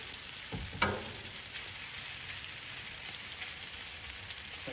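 Pesto pasta noodles fry in grease on a Blackstone griddle with a steady, soft, rain-like sizzle and a single brief scrape or clank early on, without talk.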